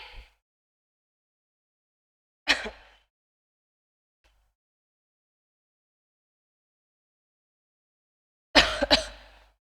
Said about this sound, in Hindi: बीच बीच के अंदर थोड़ा थोड़ा सा खांसी का साउंड आता होगा